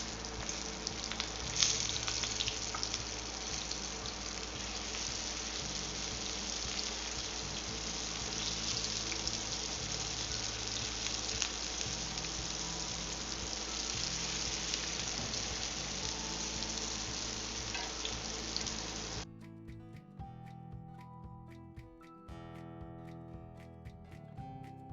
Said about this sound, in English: Okay, frying time.